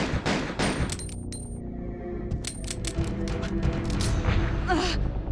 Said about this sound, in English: It is at this moment, however, that Ada appears and begins shooting at it.